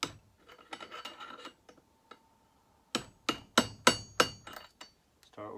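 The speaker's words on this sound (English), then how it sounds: "You start tapping it down, if I remember. I just have my hammer now also" Sharp metallic hammer taps drive a crankshaft seal into the clutch side of a Pioneer P40 engine, about eight close, loud strikes in an uneven rhythm after some softer scraping and handling of tools.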